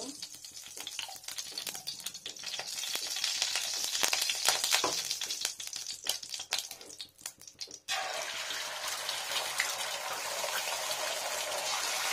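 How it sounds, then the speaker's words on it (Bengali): Three beaten eggs fry in a pan with a hissing, crackling sizzle that rises and shifts as they cook, then settles into a steady bright sizzle in the latter half. A voice talks over the first part. "ডিমটা আমি যে 3টা ডিম ফেটিয়ে নিয়েছি সেটা ভাজবো প্রথমত"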